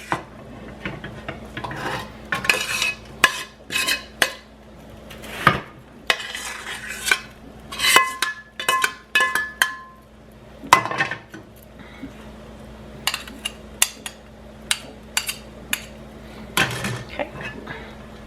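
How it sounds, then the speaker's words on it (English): Spoon scraping and clinking in a glass bowl as ground beef is mixed into refried beans, with irregular rasping strokes and knocks at close range, busier early and sparser later. "I put the can of refried beans into this glass bowl. And I'm going to add the beef to it."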